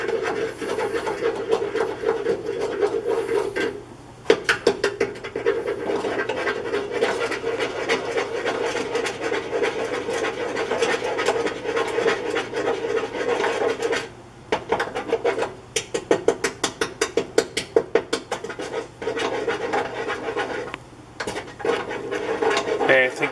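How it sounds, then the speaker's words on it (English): Ingredients being stirred until dissolved for lime goat cheese, a steady scraping and rubbing texture, close and continuous with brief pauses, running under a droning background hum. "So I'm gonna mix that up a little bit"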